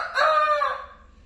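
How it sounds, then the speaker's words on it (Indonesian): A rooster gives a single loud, close crow lasting about a second, fading out at the end with no talk over it. "Ada apa nih ayam ribut-ribut?"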